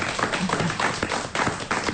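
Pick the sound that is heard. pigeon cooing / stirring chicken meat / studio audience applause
studio audience applause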